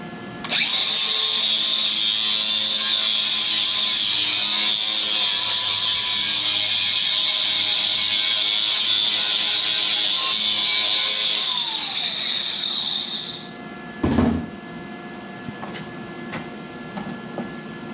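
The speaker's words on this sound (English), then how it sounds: "So we'll fire up the welder. We'll spot weld these edges and whatnot." An electric welder spot-welds the edges of steel rig mats in a steady, loud, continuous buzzing crackle lasting about thirteen seconds, then cuts off, followed by a brief clunk and faint workshop noise.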